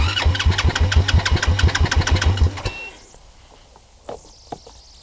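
A Suzuki LT80 ATV with a 125cc Kymco manual-clutch engine cranks with rapid, loud, rhythmic chugging pulses for under three seconds, then cuts out, leaving faint rustles and small knocks nearby.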